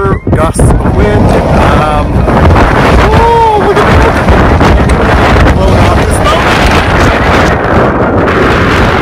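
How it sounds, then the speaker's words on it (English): Strong gusting wind on a sheer rock face roars and buffets the microphone continuously, a loud rushing blast with some faint voices mixed in. "it is like super gusts of wind"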